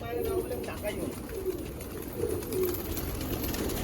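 Pigeons coo softly in repeated low, rolling phrases close by, while a person talks over them and light outdoor noise sits underneath.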